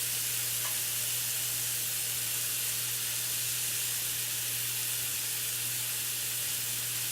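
Shrimp fry in a pan with a constant, even sizzle and hiss that stays steady throughout, with no voices over it.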